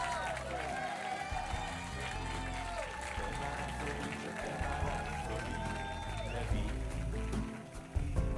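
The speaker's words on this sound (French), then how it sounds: "Je pense qu'on peut les applaudir." Wedding guests clap for the newly married couple after the ring exchange, a steady crowd applause that stays loud through the moment with a low rumble and some voices mixed in.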